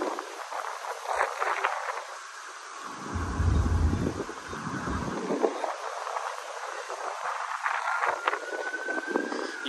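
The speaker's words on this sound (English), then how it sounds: "I could feel this wind so much." Wind gusting across open waterfront grounds at Randalls Island in New York City, a steady broadband rush with louder low buffeting in the middle, heard alone without talk.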